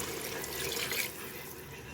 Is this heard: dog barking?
no